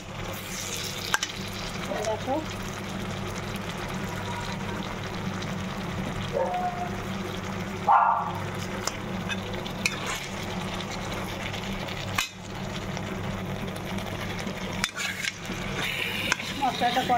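Spice paste is stirred and fried in a small fuchka pot, giving a continuous low sizzle with scraping strokes and occasional clanks while a person talks over it.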